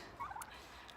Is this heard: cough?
no